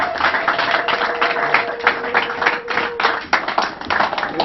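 An audience claps together at a New Year's wishes gathering, a dense, steady wash of applause that fills the room for several seconds, with no talk over it.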